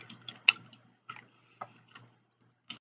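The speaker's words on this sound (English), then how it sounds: "Sorry for my phone going off" A mobile phone going off at the side of a room, heard as a few short, faint, separated electronic beeps and ticks with no talk.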